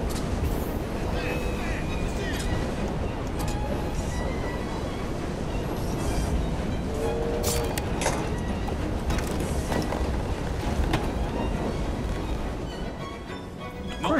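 A steam-era train rumbles and clatters steadily in Assassin's Creed Syndicate, a continuous mechanical rolling noise with occasional knocks, while someone talks over it.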